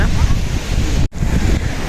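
Strong gusting wind buffets the microphone with a loud, continuous roar beside Tortum Waterfall in Erzurum, Turkey, briefly cutting out for an instant before roaring back.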